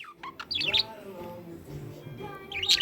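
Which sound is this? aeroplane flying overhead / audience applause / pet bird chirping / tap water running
pet bird chirping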